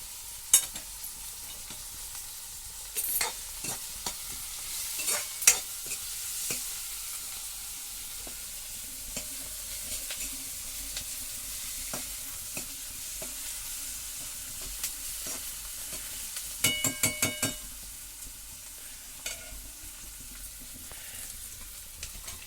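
Onion frying in a pan, Malvani style, for a red amaranth dish: a soft, steady sizzle runs throughout, broken by occasional sharp scrapes and clicks of stirring, with no talking.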